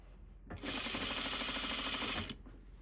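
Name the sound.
sewing machine stitching a hem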